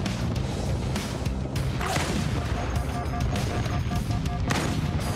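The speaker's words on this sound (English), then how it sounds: "Shots left on this one." Gunfire in the video game Halo 2 Anniversary Edition, with fast, loud, continuous bursts of shots and thuds packed over the whole stretch.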